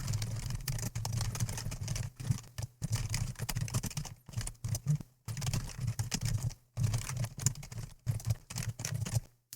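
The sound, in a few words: typing code on a computer keyboard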